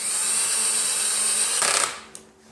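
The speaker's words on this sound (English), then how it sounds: "I think I can probably adjust the drill down a little bit" A power drill runs steadily, driving Allen bolts while an office chair is assembled, a continuous close whir that cuts off near the end, followed by a brief click.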